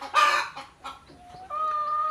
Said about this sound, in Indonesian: Ayo berkokok.